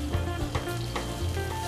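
Paprika-coated chicken breasts fry steadily in a pan, giving a continuous close sizzle with soft crackles and a few faint scrapes, with no talking.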